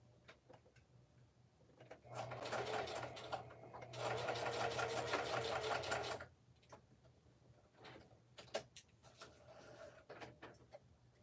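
Sewing machine stitching a scrapbook page, two bursts of steady whirring stitching separated by handling clicks and rustles, close and otherwise quiet.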